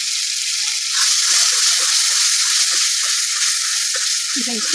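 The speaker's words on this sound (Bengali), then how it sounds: "ভেজে নেব, মশলার সাথে একসঙ্গে ভেজে নেব।" Beetroot paste fries with spices in a pan, giving a steady bright sizzle throughout with occasional stirring scrapes, while someone briefly speaks over it.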